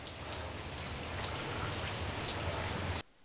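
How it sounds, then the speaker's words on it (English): Heavy rain pours in a steady, close hiss of drops hitting a surface, then cuts off abruptly near the end. "I'm going into the rain."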